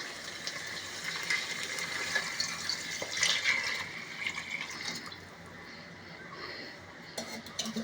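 Coconut milk pouring into a pot of rice for Andhra-style coconut rice, a soft continuous liquid splash and trickle heard up close, fairly quiet and alone, easing off toward the end.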